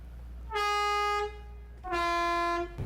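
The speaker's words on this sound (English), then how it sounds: "City and air horns must function properly to warn other traffic of your presence" Two long, loud blasts of a truck air horn, each held for about a second with a brief pause between.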